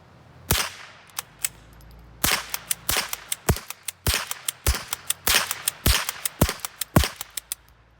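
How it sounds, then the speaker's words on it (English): A Remington 12A .22 rifle fires rapidly at an outdoor range, a string of sharp, close cracks in quick irregular bursts with brief pauses between groups. "We took it to the range, the boys liked it, and actually did some kind of rapid fire with it."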